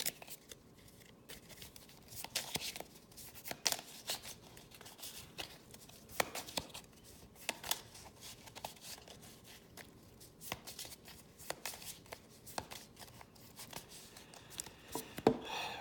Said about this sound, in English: get them shuffled in here